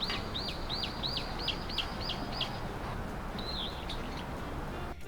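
A brown-eared bulbul in the game Super Mario Odyssey gives a rapid series of about eight sharp, repeated chirping notes, then a single longer call, fairly clear over a steady background hiss.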